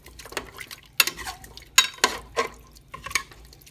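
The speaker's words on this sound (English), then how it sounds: "Give it another stir." A spoon stirring garlic-seasoned food in a pressure cooker pot, scraping and clinking against the metal in several close, uneven strokes over a faint sizzle, with no talking.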